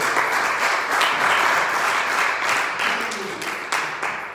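A church congregation at a Sunday service applauds together, a dense, sustained wash of clapping that fills the room and slowly eases off, with a few sharper claps standing out toward the end.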